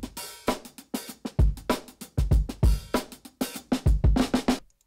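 A breakbeat drum loop runs through Color Box saturation, punchy kicks and snares hitting in a steady, busy pattern with thick low-end weight and bright, crunchy cymbal and snare tops.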